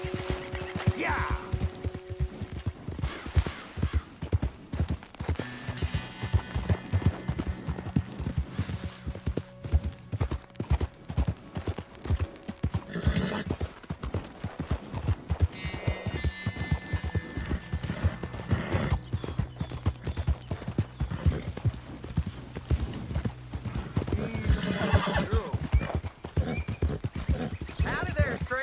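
Horse hooves clip-clop steadily across Red Dead Redemption 2 gameplay, with occasional whinnies and neighs, while people talk over the riding throughout.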